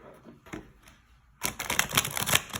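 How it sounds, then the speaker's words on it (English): Rapid, dense clattering of tarot cards being shuffled, starting after a quieter stretch with a few soft taps and continuing briskly to the end. "So I'm definitely gonna shuffle these cards some more, play with them."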